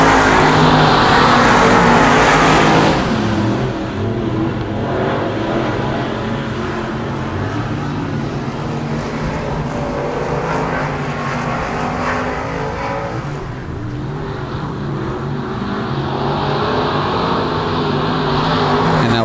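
Street stock cars racing around the Genesee Street dirt track, a loud continuous engine roar that swells as cars pass nearby and fades into a steady drone, with a commentator talking over it.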